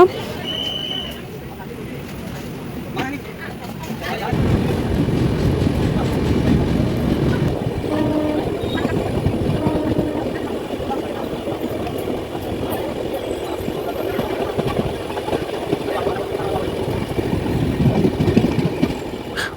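Rumbling train noise on the rails during a Kakinada to Hyderabad journey, a steady low clatter that grows heavier after a few seconds, with people talking faintly in the background.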